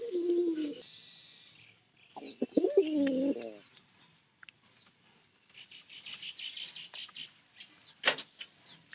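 Pigeons of a short pigeon breed coo close by in a loft where they are fed maize bran, several soft throaty calls in separate bursts with rustling and light movement between them.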